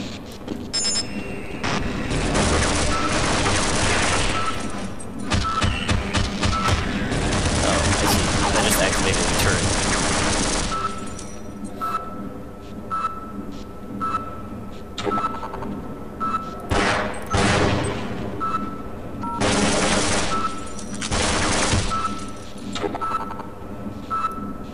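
Submachine gun fire in Half-Life, bursts of rapid clattering shots with mechanical clicks running loud for the first ten seconds, then sparser shorter bursts amid other game effects.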